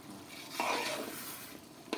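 Biryani with chicken and mutton stirred in a large pot, a close scraping and churning of the ladle through the rice with a brief stronger stroke partway through and another near the end.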